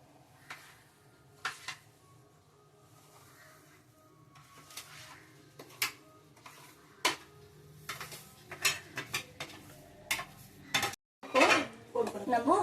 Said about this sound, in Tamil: இப்போ நம்ம வறுத்து வச்சுக்கிற ரவையை மிக்ஸ் பண்ணிக்கலாம்